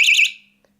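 A burglar alarm gives one short, loud, warbling electronic tone that cuts off quickly and fades, followed by near silence.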